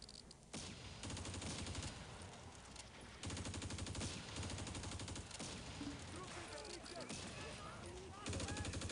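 Sustained machine-gun fire and rattling volleys from the Close Combat video game on Crete, continuous and dense throughout, with brief pauses between long bursts and faint voices talking underneath.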